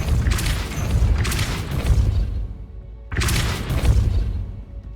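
Depulso force spell cast in Hogwarts Legacy, two heavy booming bursts with crashing, rumbling tails, the first long and rolling, a short pause, then a second loud blast, all close and dominant.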